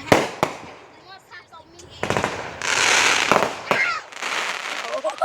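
Fireworks going off near a house, a rapid series of sharp crackling bursts and bangs, some close and loud, with people talking during the display.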